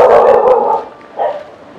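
A dog barks loudly and close by in several quick bursts, then gives a shorter yip after a brief pause.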